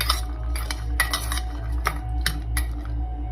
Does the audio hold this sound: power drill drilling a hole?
no